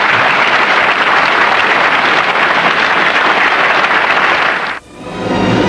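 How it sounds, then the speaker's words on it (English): A large NCAA basketball arena crowd roars and cheers loudly and without a break after a record-setting scoring performance, then the noise drops away abruptly near the end. "And listen to the crowd now."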